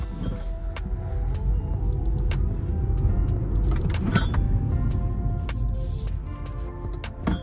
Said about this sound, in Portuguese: Vou soltar e agora eu vou acelerar.